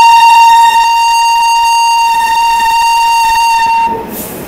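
Long, loud sustained horn of the Kanchankanya Express arriving at a station platform in the early morning, a steady multi-tone blast holding for about four seconds before cutting off.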